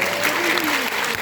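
Audience applause fills a political town-hall gathering in Sejong for a Democratic Party leadership candidate, loud continuous clapping from a close crowd, with a faint voice underneath.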